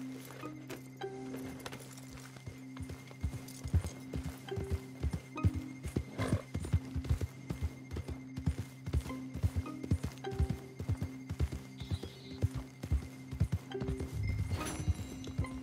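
A horse gallops in Red Dead Redemption 2, its hooves drumming a fast, steady clip-clop rhythm over a low constant game hum, with an occasional whinny and soft tack clinks.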